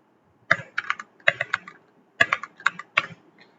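Computer keyboard typing in a clear burst of quick keystrokes, a pause, then another run of clicks, close and crisp in an otherwise quiet room.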